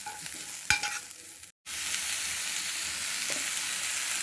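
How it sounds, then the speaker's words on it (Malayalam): Chili powder, black pepper and salt roast in a pan, a constant bright sizzle with a spoon knock near the start and a momentary cut partway through, no talking. "മുളക് പൊടി, കുരുമുളക്, ഉപ്പ്, ഇതെല്ലാം കൂടി ഇട്ട് നമ്മൾ ജസ്റ്റ് ഒന്ന് മൂപ്പിച്ചെടുക്കണം"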